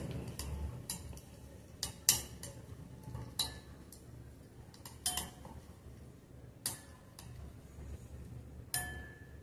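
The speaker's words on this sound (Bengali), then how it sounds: "এর মধ্যে আমাকে লঙ্কার গুঁড়োটা খুব ভালো করে মিশিয়ে নিতে হবে" Boneless chicken cubes being mixed with chili powder in a bowl, quiet squelchy stirring punctuated by sharp clinks of a utensil against the dish every second or so, no talking.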